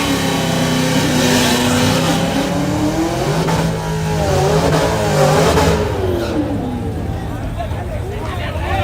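Small-tire Chevrolet Camaro drag cars, one blue with a front drag pack and one silver, roar loudly at a hood track, their engines rising and falling in pitch across the run while spectators talk excitedly over them.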